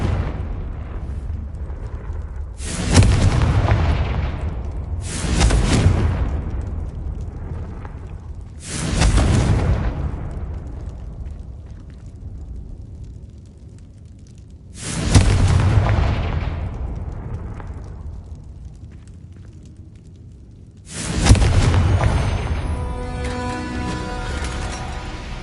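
Confringo spell explosions from Hogwarts Legacy, five loud booming blasts spaced several seconds apart. Each one decays into a long rumbling tail.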